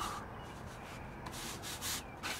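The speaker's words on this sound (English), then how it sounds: "we're pressing it in with the broom." A push broom sweeps polymeric sand back and forth across interlocking pavers to press it into the joints, making a steady, close, gritty rubbing hiss with soft surges as each stroke passes.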